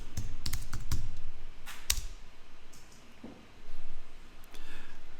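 Computer keyboard keys tapped on a PC as a folder name is entered, a few close, sharp clicks in short irregular bursts with quiet pauses between them.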